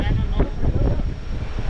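Strong mountain wind in Mustang, Nepal, buffets the microphone with a continuous low, rumbling roar that rises and falls in gusts.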